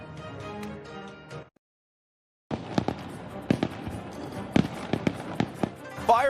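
Fireworks over Ottawa go off as a string of sharp bangs and crackles at irregular intervals. A news voice comes first, then brief silence before the bursts.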